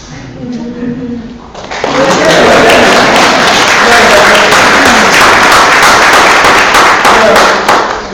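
Lecture audience at Princeton breaking into loud, sustained applause after a brief spoken lead-in, the clapping swelling quickly and holding strong to the end.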